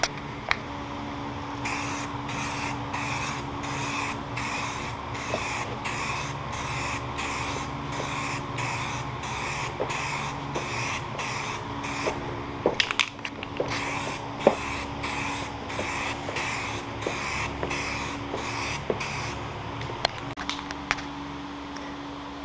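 Metallic dark copper spray paint applied to wheels in a series of short, evenly spaced hissing bursts, mostly regular with a few pauses and faint clicks and handling noises in between.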